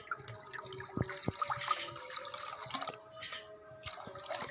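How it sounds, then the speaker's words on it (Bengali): Water is poured into a pan on a lit gas stove while making sugar syrup for spicy rice laddoos, giving a steady close splashing trickle with small clinks, and no one speaks. "গ্যাসটা জ্বালিয়ে নিয়েছি আমি, এবারে কিছুটা জল দিয়ে দেবো।"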